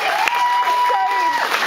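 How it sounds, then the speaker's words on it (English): An audience at a singing session claps and cheers loudly and steadily, with a whistle-like tone ringing through it and voices mixed in. "Give them a round of applause."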